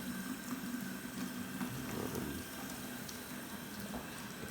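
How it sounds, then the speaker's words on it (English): Really hot water streams steadily out of a Steam Slayer steam cleaner, a continuous close hiss and splash with faint steam noise and no talking. "And that's hot water coming out here, really hot."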